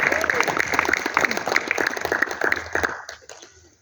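A church congregation claps for the Lord, a dense, steady wash of applause that fades out near the end.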